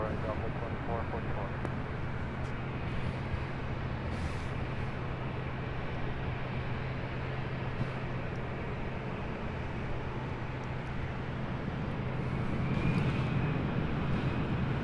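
A Delta jet rolls for takeoff on runway 24 left at LAX, a loud, steady broadband engine roar with a low drone that holds throughout and swells slightly toward the end.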